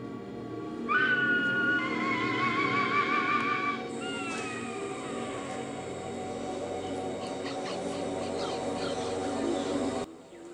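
A Haast eagle gives a few shrill, whistling cries that slide downward in pitch, followed by fainter chirps over a low background hum.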